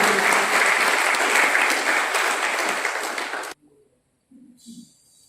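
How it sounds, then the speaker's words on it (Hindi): Loud, dense applause from an audience at a 55th birthday celebration for a company boss at a milk products unit, sustained for about three and a half seconds then cutting off abruptly, followed by brief faint sounds. "एक बार जोरदार तालियां हो जाए दोस्तों।"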